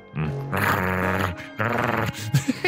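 A dog in the Sherlock Holmes: The Devil's Daughter video game grunts and growls in loud, close, harmonic bursts, with a pause before a final series of shorter huffs.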